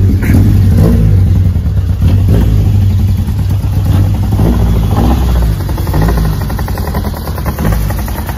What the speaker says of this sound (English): I just want you to have a listen to this car idling.